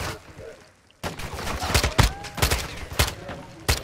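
Gunfire from a gun in Call of Duty rings out as a string of sharp, fairly close shots. The shots come irregularly over a few seconds after a quiet opening.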